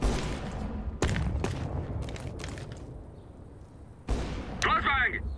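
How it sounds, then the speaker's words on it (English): A grenade goes off in Counter-Strike: Global Offensive with sharp, loud blasts and a rumbling tail, followed by another burst and a ringing whine, as a voice talks under the gameplay. "Grenade."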